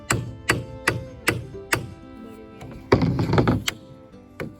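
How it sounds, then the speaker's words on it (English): A hammer drives nails into a wall of a chicken coop under construction, with about a dozen sharp, fairly close knocks, first in an even rhythm, then in a quicker, denser cluster. "Just nailing the second wall."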